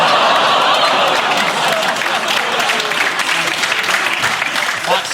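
A studio audience breaks into loud, sustained applause mixed with chuckles and laughter, clapping strongest at first and then thinning slightly while staying dense to the end.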